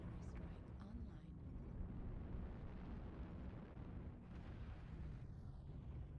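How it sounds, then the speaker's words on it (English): Artillery strike explosions in the mech combat game MechWarrior Online, a continuous low rumbling barrage of booms, loud and sustained, with radio-style voices talking over it. "Artillery strike online."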